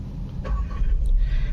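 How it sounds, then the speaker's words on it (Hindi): A Volkswagen Virtus 1.0 TSI sedan starts, a short crank followed by a low, steady engine rumble heard close by and alone. "तो भाई एक बार गाड़ी को स्टार्ट करते हैं।"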